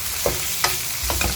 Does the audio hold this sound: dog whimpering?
no